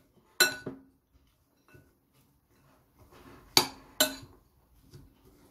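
Carrot salad being stirred with green onion and walnuts in a bowl, heard as a few sharp clinks of a utensil against the dish separated by quiet pauses and soft shuffling, close and otherwise silent.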